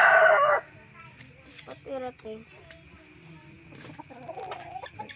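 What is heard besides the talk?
chicken, rooster crowing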